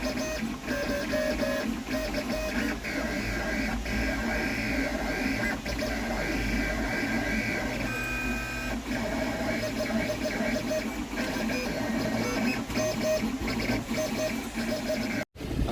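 Printer printing the text for stickers, a steady close mechanical whir with repeated ticking and sliding passes, continuous throughout before a brief cut near the end.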